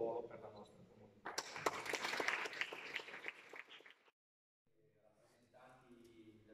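Audience applause at the Christmas volunteer ceremony in Osnago, a dense burst of many hands clapping in a hall that swells suddenly, holds steady for a few seconds, then cuts off, followed by a speaking voice.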